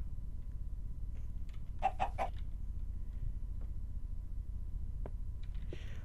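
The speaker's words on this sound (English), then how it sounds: "Trish is my new pet, chicken." A chicken in the Minecraft video game gives a short burst of three or four clucks near the start, then a couple of isolated faint clicks follow over a quiet low background hum.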